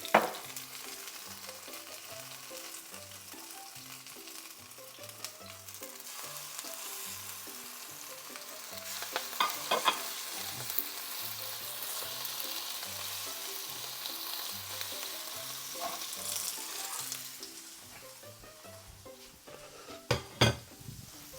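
Steak frying in oil in a hot pan, a steady moderate sizzle lasting about twenty seconds, with occasional stirring, light clinks of utensils and pans, and a couple of sharp knocks near the end.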